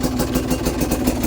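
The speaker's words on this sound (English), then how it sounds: "we're still idling a bit low" A car engine idles nearby with a steady, low, slightly uneven rumble and rhythmic pulsing chug.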